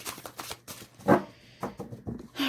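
Tarot cards are shuffled by hand in quick irregular riffles and soft slaps, close and crisp, with no speech.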